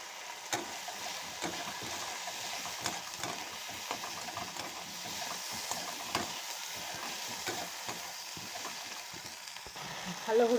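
Spices fry with turmeric in a pan, giving a steady sizzle with scattered stirring scrapes. The frying runs throughout at moderate volume and ends in a slightly louder clatter, with no speech.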